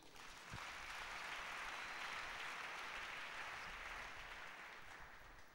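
A church congregation applauding in praise, a dense, even wash of clapping that carries on steadily throughout at a moderate distance.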